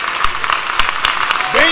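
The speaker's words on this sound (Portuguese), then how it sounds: "Uma salva de palmas para Jesus," Church congregation clapping for Jesus during a Portuguese-language worship service, a lively burst of dense handclaps running throughout with voices mixed in, a singing or speaking voice rising near the end.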